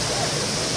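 Tipakan Falls in Cavinti, Laguna, pours with a strong current, a loud, steady, close rush of falling water filling the brief moment with no voices.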